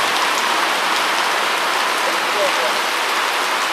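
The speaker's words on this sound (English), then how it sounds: "It's out here raining hard" Heavy rain pours down outdoors on a street in Detroit, a dense, loud, continuous hiss of drops striking surfaces with no break or change in intensity.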